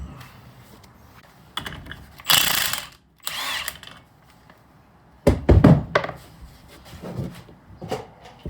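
Mechanical clicks and a couple of brief ratcheting bursts come from bolts being loosened on the skid shield of a 2018 Polaris Sportsman 570 ATV, close up, with quiet gaps between the bursts and no talking.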